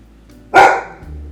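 A pet puppy gives a single sharp, loud bark close by, with a short tail of lower noise afterward.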